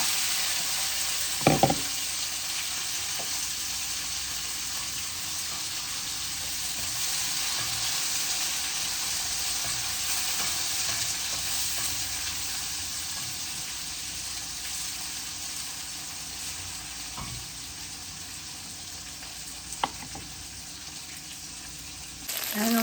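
Onions and green chillies sauté in a pan of hot oil with mustard seeds and fennel for a Sri Lankan fish curry, giving a steady, close sizzle throughout with a couple of sharp spatula knocks.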